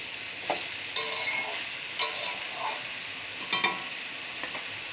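Bottle gourd being stirred with spices and salt in a pan, a steady soft sizzle under occasional scraping strokes of a spoon, close and continuous, with no talking.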